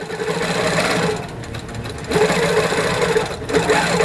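A sewing machine stitches a quilt in precision mode, its needle running in a fast, steady mechanical chatter that pauses briefly and resumes, loud and close with no voices.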